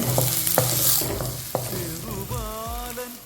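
Chopped garlic, shallots and green chillies frying in oil for a drumstick-leaf curry, a steady close sizzle broken by sharp clanks and scrapes of a spoon stirring the pan.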